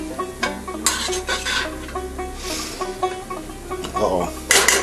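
Ramen noodles are stirred in a pot on the stove, giving repeated scraping and clinking of a utensil against cookware with light sizzling, while a person talks over it.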